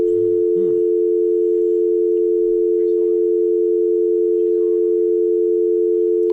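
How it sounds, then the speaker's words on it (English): A steady telephone dial tone holds unbroken and loud through the whole stretch, with only faint background rustles beneath it on a radio call-in line. "It's a dial tone."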